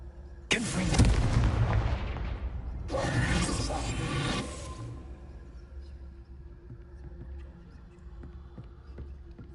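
Confringo fire blast spell exploding in Hogwarts Legacy: two loud, close bursts, each a sudden crackling roar lasting a couple of seconds, then a low rumbling tail fading into quiet game ambience.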